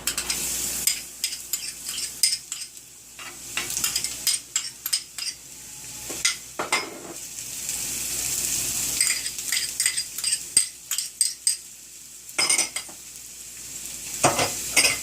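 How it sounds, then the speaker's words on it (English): Chopped ginger and garlic fry in a hot pan with a steady sizzle, broken by frequent scraping and clinking strokes of a utensil stirring against the pan, close up and with no talk. "I'll fry them for a while till it gets a little brown and starts to give the flavor."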